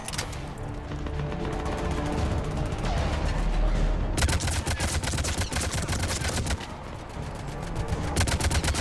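Sustained rapid gunfire from the video game Mass Effect 3 as husks are shot, loud and steady with clipped repeating bursts and short gaps between volleys, no voices over it.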